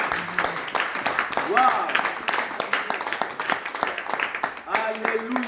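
A congregation at a church service applauding and clapping in scattered bursts while a voice exclaims over them, with lively talk and cheers mixed in.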